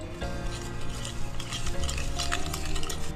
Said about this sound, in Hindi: और अब ये सारे मसालों को हम अच्छे से मिक्स कर लेते हैं।